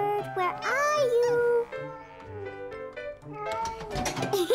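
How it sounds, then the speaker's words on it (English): A cartoon cat in a children's animated episode meows loudly with rising and falling wails, followed by softer mewing sounds and a final bright squeal. "Silly cat."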